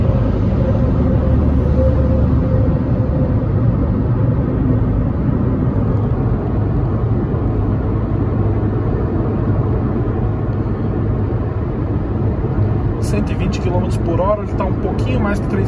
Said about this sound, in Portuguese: Esse barulho que vocês estão ouvindo é muito de vento.